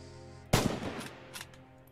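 A bolt-action rifle fires once in the Red Orchestra 2 Stalingrad shooter game, a sharp loud crack with a short echoing tail, followed by a fainter second report under low background rumble.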